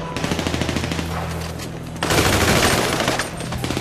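Rapid automatic gunfire in the video game GTA V Online Adversary Mode, a dense rattle of bursts that swells louder about halfway through and then eases off, with no talk.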